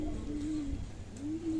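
A Saharanpuri pigeon coos nearby, two soft drawn-out calls separated by a short pause against a quiet background.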